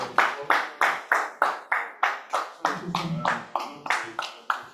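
Rhythmic hand clapping at a bridge club celebration event, about a dozen sharp, evenly spaced claps that sound close and fairly loud, with a brief murmur midway.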